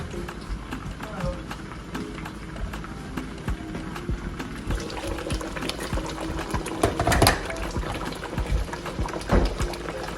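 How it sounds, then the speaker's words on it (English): A pot of meatball stew bubbles and pops steadily, with a dense crackle of small bursts that grows a little busier partway through. "can you see it's boiling?"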